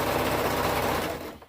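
A serger sewing machine stitches mauve and cheetah-print toddler hoodie fabric in a rapid, even mechanical chatter, close and steady before winding down at the end.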